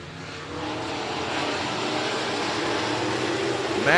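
Modified and RaceSaver sprint cars roar around the Crawford County Speedway dirt track, a dense engine drone that builds steadily louder toward the end.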